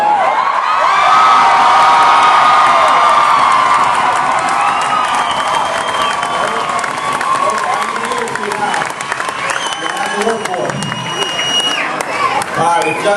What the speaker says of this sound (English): If y'all were to cheer just a little bit louder.